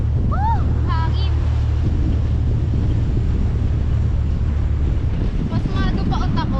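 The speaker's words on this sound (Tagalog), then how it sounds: "Hangin." Strong wind buffets the microphone at a scenic viewpoint, a constant loud roaring rush filling the whole stretch, with a few brief exclamations and voices breaking through at the start and end.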